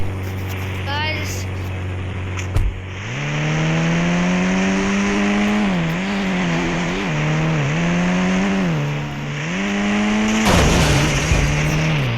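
A video game car drives off to park with a loud, close engine drone. The revs rise and dip in waves, and a sharp knock comes just before the car pulls away.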